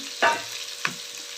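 Ivy gourd (tindora) frying in a pan with tomato gives a soft, steady sizzle broken by two short scraping stirs, close and alone with no voices.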